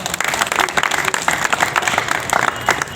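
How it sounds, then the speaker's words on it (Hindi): Students clapping together in a tribal student hostel, brisk crowded handclaps with individual claps audible, loud and close, continuing throughout. "ताली होता है ताली बजाएंगे"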